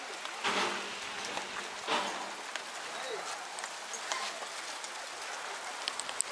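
Heavy rain falls steadily onto a flooded street in Meghalaya, India, as a continuous soft hiss with a few louder splashing bursts and scattered drips.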